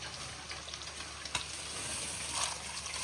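Chicken frying and browning in a pan sizzles continuously at a moderate level, with a single sharp utensil tap partway through and faint stirring scrapes.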